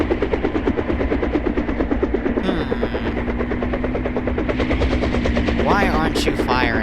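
Sustained rapid machine gun fire in a video game, a dense continuous rattle with a droning engine-like tone beneath, loud throughout, with a voice speaking briefly near the end.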